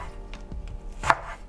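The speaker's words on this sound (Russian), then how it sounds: "Пока закипает, рубим зеленушечку." A few quick knife chops through green onion, dill and parsley on a cutting board, short and crisp, spaced irregularly, close up with no talking.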